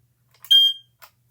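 A hardwired Smoky Stover 4202 smoke detector's piezo alarm gives one shrill high-pitched chirp, then a brief second burst, loud and close against silence.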